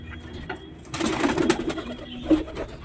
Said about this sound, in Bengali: এটা হচ্ছে মেয়ে পায়রা,